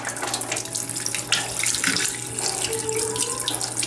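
Hot coffee pours in a steady, splashing stream from an old camo-patterned Aladdin Stanley steel thermos made in the USA, close and continuous with no talking.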